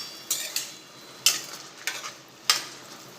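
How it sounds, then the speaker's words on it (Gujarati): Cluster beans (guar) cooking in a hot pan, a soft sizzle broken by several brisk scraping stirs of a spoon at uneven intervals, close and clear, with no talking. "હવે વચ્ચે વચ્ચે ચલાવતા જઈ અને ગવારને કૂક કરી લઈશું"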